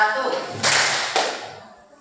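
A classroom of students clapping in unison in counted rounds, two sharp collective claps close together over a decaying echo, with a voice speaking just before.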